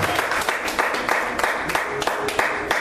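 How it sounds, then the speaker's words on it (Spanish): A church congregation claps at a service, with rhythmic, fairly even clapping and periodic louder accents, moderately close and continuous. "Tiene un aplauso al Señor"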